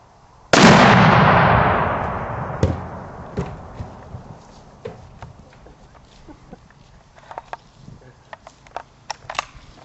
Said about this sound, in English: He's about to shoot.